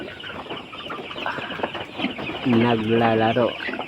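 Healthy hens that are ready to lay cluck and call close by, with a louder, drawn-out squawk near the end. Someone talks over the birds.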